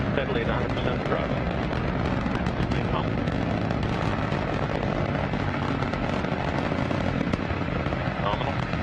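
A rocket's first stage engine roars at full thrust, a dense, steady broadband rumble with crackling texture that holds constant throughout at a distance, under announcer commentary.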